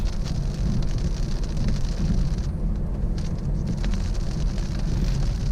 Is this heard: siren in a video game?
no